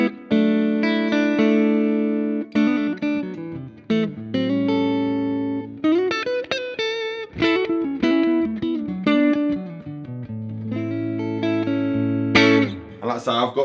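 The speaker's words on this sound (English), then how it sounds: "Reverb coming from the amp." Clean electric guitar played through a JK valve amplifier pushed to about 5, with reverb from the amp and no other effects, sounding as sustained chords and picked notes ringing out continuously, loud and close.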